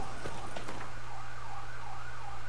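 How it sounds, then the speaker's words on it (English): Siren from an emergency vehicle passing outside near a hospital, a faint wailing tone heard through walls over a low steady hum. "Oh, jeez, I thought I could get through one recording without a siren."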